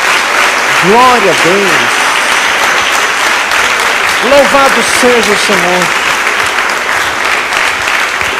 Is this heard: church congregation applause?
yes